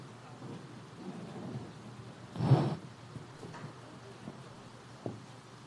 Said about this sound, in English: So rain beginning to fall